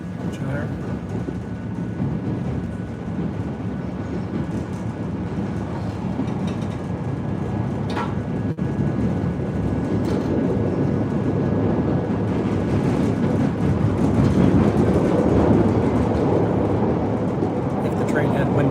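A train runs steadily along the tracks past close-lining buildings, pulling into a Green Line station, a continuous rumble that grows louder toward the end, heard from on board with a voice talking over it.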